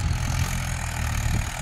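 A Mahindra 585 DI tractor fitted with a rotavator idles nearby, a steady low diesel rumble held at constant loudness throughout.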